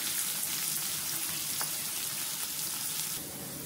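Chopped onion fries for semolina upma in a soft, steady sizzle with a faint hiss, which drops slightly near the end.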